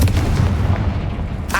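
A Confringo fiery blast spell cast in the Hogwarts Legacy video game, a loud sustained booming rumble like artillery fire with a fresh burst at the very end.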